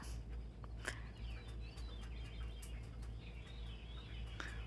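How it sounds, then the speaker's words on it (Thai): Birds sing and chirp repeatedly outdoors at a moderate distance over a steady low hum, with no talking. "ธรรมชาติมากเสียงนกลองฟังสิค่ะ"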